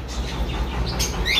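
Caged birds at a bird seller's shop chirp and tweet over a low steady hum, with sharper high calls bursting out near the end.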